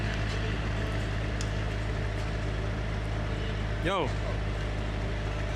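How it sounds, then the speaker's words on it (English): A deep, steady exhaust rumble from a BMW F80 M3 running on E85 fuel drones throughout, with a brief shouted voice partway through. "the exhaust on this car sounds crazy"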